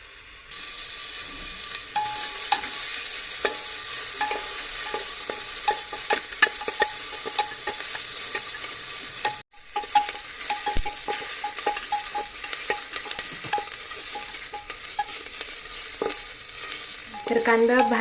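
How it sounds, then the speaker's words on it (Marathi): Chopped onion sizzles steadily in a pan over medium heat while being stirred, with scraping spatula clicks throughout and a brief break near the middle, in a Maharashtrian home kitchen with no talking. "तर आता आपण याला छान असं थोडं लालसर होईपर्यंत भाजून घेणार आहोत."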